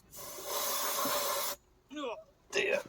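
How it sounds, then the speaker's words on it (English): Aerosol spray hisses in one steady, close burst of about a second and a half onto the steering parts of a 1986 Ford Escort RS Turbo, followed by brief voices. "Spray this and then vacate because it's horrible stuff."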